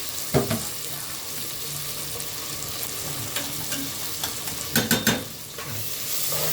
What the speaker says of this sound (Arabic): تشويحة الرز دي كده بتشوح مع بعض احسن من اي حاجه تانية